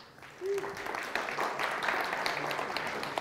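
An audience claps at a programming talk on types, breaking into steady applause that fills the room and continues to the end, alongside faint voices.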